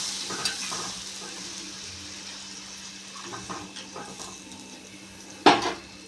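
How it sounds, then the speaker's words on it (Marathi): Vade cook in a hot pan with a low continuous sizzle and the scrape of stirring, then a sharp clatter of utensil against the pan near the end. "आता वडे शिजवायला आपण याच्यात पाणी टाकणार आहोत."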